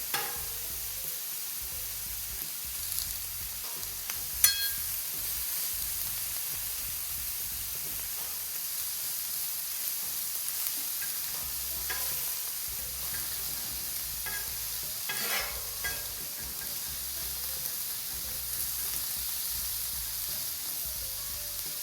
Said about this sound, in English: Let that sizzle up.